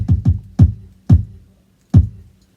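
Deep, punchy kick drum hits in an uneven, Fibonacci-based R&B pattern: quick pairs at first, then single thumps spaced further apart, loud and dry.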